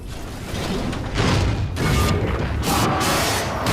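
Mortar titans barrage the harvester in Titanfall 2 Frontier Defense, a dense, loud stretch of booming impacts and crashing blasts that swell and overlap with no pause.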